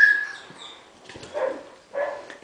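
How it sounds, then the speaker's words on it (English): A mother dog outside gives a few short, muffled barks and whimpers at a distance, spaced apart in an otherwise quiet space. "I can hear their mother outside barking"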